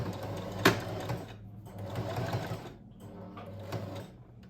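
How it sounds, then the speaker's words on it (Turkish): Sewing machine stitching along marked lines on a polo collar, with a sharp click at the start followed by steady whirring runs and brief near-silent gaps, close but fairly soft. "Şimdi çizdiğim yerlerden dikiyorum."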